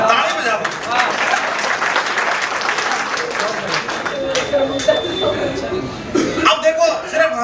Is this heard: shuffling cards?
no